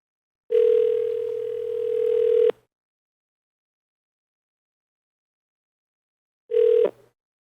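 Telephone dial tone, a steady loud tone lasting about two seconds, then silence and a short second tone as a number is dialed, with no voices.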